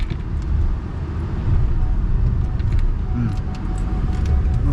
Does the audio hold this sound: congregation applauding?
no